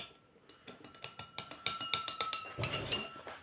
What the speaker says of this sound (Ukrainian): Так, розмішуємо.